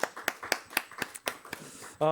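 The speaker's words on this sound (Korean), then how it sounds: "박수 부탁드립니다" A small youth congregation claps at a church graduation service: a sparse, fairly regular run of sharp claps, close and moderately loud, with a voice breaking in at the end.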